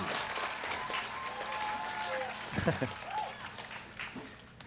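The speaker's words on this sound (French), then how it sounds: "On peut les applaudir." An audience applauds two guests on stage at a live event, a soft, diffuse patter of many hands at moderate distance, with a voice speaking briefly over it partway through.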